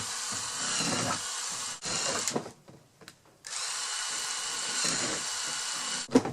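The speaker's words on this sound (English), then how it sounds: "Start drilling the holes down at the very bottom rather than leaving a 6-inch margin like I did." A power drill with a 3/16 inch bit bores holes in a garbage can for a chicken coop composter, giving a loud, sustained whine that breaks off in short pauses between holes.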